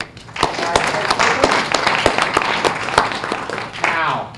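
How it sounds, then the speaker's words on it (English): Audience applause at a legal conference panel, a burst of scattered hand clapping with sharp individual claps, moderately loud, with some voices talking underneath. "Round of applause."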